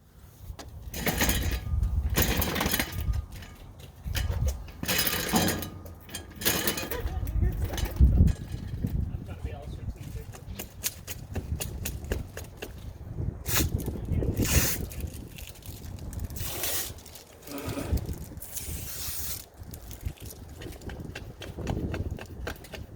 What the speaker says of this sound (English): scraping on that rubber seal